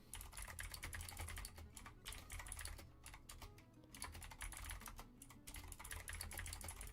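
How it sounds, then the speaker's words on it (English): Rapid, loud clacking of keys on a computer keyboard, with brief pauses between bursts of typing. "Sorry for the very loud typing."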